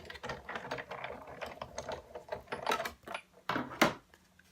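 A die-cutting machine cranked by hand with a Stitched Shapes Framelits die, giving close, uneven clicking and ratcheting gear sounds in short bursts.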